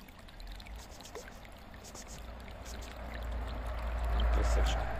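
Water runs from a newly drilled borehole well in the Rostov region, a steady pouring and rushing flow that swells louder toward the end, with people talking over it.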